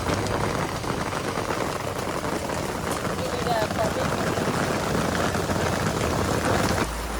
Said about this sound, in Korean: 빗방울 진짜 크다.